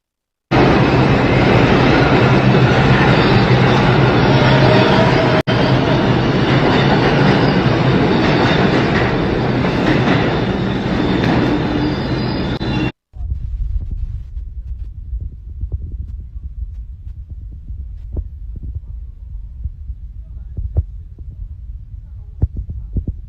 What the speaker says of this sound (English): you don't want that train coming because it run him over